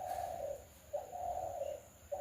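Bulbul birds call in a garden, a repeated mellow whistled note heard a few times at moderate distance over soft background hiss.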